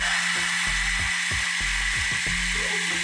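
A hair dryer heating thermochromic paint runs as a steady, loud blowing whoosh with a constant motor hum, plus a low rhythmic thumping underneath, continuous and close with no talk.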